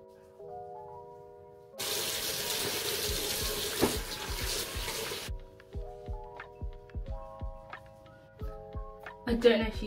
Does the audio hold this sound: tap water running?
yes